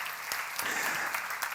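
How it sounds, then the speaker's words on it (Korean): A church seminar audience claps in a short burst of applause, dense and even, filling the room for under two seconds. "박수 하세요"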